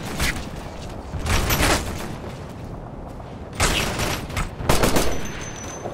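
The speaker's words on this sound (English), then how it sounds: "We're getting shot at!" Repeated bursts of automatic gunfire in the combat video game Operation Flashpoint: Red River, loud volleys firing in several clusters with short lulls of lighter shots between them.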